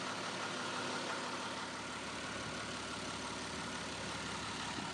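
John Deere 6068 DF marine diesel, 127 horsepower and box-cooled, idling aboard a 21 m Dutch luxmotor barge: a steady, dense, even drone that runs alone throughout with no speech.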